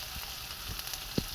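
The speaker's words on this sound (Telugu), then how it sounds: "ఉల్లిపాయలు, పచ్చిమిరపకాయలు వేసేసుకున్నామండి." Onions and green chilies frying with mustard seeds in a pan, a soft steady sizzle with faint stirring and one brief louder clatter near the end, no voices.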